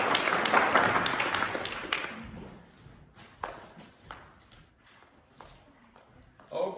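A church fellowship gathering claps for children in a brief burst of applause that fades out after about two seconds, leaving scattered light taps and faint room sounds.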